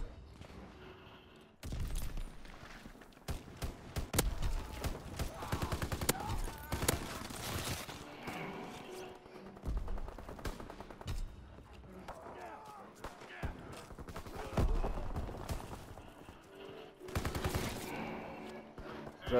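Shotgun blasts and gunfire from a Call of Duty: WWII multiplayer match, a dense run of loud, sharp shots in uneven bursts with other weapons firing around them, while players talk over the action.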